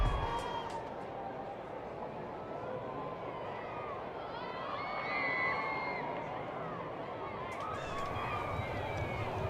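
A cricket crowd at a Vitality Blast T20 match between the Bears and Steelbacks keeps up a broad, steady roar of cheering and whoops, swelling slightly midway, with a few scattered shouts over the continuous wash of noise.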